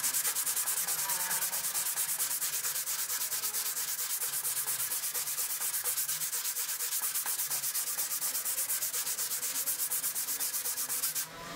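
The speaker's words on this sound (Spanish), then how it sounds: "En este momento solamente vamos a trabajar lo que es el lijado a mano." Sandpaper rubbed by hand along the grain of a wooden board, a steady, close, continuous scratchy rasp of repeated back-and-forth strokes with no speech.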